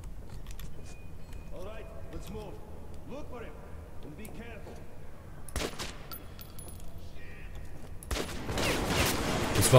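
Gunfire from the shooter game Metro 2033 Redux, a headshot, lands as a short noisy burst midway and a louder rush of noise near the end, over constant game ambience and someone talking.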